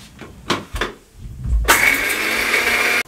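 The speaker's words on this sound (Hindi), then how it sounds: "इसको हम ग्राइंड कर लेंगे।" A few knocks and rattles of biscuits being dropped into a blender jar, then the motor starts with a loud, steady grinding whir that runs for over a second before cutting off abruptly.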